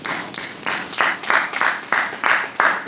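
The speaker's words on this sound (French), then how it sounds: "on va l'applaudir s'il vous plaît" A crowd claps together, steady and fairly close, with a few swelling bursts over roughly three seconds and no talking on top.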